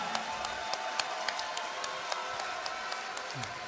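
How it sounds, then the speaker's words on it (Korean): Crowd applause at a Democratic Party rally, a dense steady wash of clapping from a large audience with sharp individual claps standing out throughout. "네, 큰 박수 부탁드립니다."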